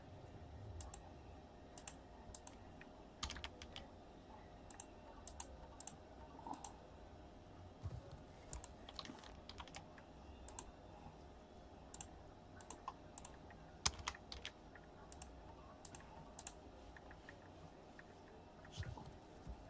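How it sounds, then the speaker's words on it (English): Faint, steady typing of numbers on a computer keyboard, soft irregular key clicks over a low background hum, no talking. "You can keep typing as many numbers."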